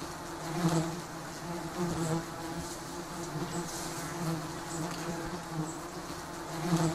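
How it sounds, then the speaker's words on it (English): Giant stinging honeybees buzz around their nest on a tree or rock crevice, a dense swarming drone with individual bees passing nearer, steady and moderately loud, without voices. "The giant stinging honeybees build their nests on sparsely leaved trees or rock crevices"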